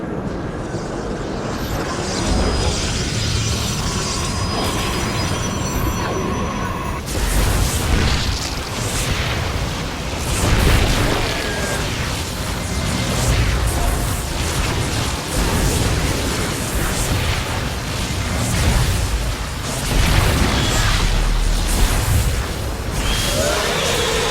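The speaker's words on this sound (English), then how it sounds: "Warriors, focus all cannons on the hybrid." Cannon fire and explosions from the StarCraft II: Legacy of the Void game come as dense, repeated booms and blasts over nearly half a minute of continuous battle noise.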